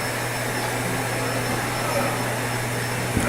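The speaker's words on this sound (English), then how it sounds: "there's gonna be some vacuum noise in the background" A vacuum cleaner picking up cat hair drones steadily and fairly close, a constant whining hum throughout with no talk over it.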